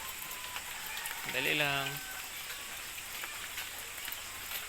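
Steady rain falling outdoors, a dense even hiss throughout, with a brief voice speaking over it.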